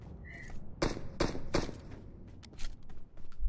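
Gunfire in the mobile battle-royale game PUBG Mobile, a few sharp shots in a quick burst followed by fainter scattered cracks, heard alone without talk.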